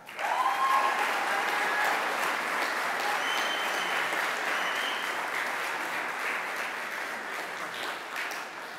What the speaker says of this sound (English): Let's give one more round of applause for our Fifth Third Bank Madisonville interns